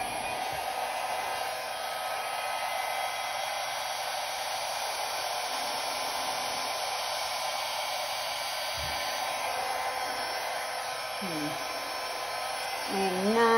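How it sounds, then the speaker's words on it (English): A hair dryer on its low cool setting blows a constant, close whooshing hum across fluid art paint for the whole stretch, with brief faint vocal sounds near the end. "I'm gonna take my blow dryer, and I have no idea what's gonna happen here, but I'm gonna work on the low cool setting"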